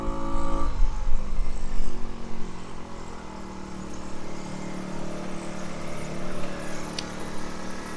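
A Tao Tao engine on the move while riding in light rain, running with a rough, uneven drone that bogs after a louder opening stretch and stays low and sputtering.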